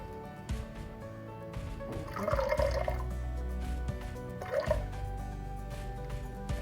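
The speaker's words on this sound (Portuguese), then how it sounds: "de onde vamos colocar a partir de agora 300 gramas de água. Devagarzinho para não passar" Water is poured slowly into a container on a scale during a specific-heat experiment with soybean oil, with soft trickling and dripping bursts and quieter gaps between, close and alone.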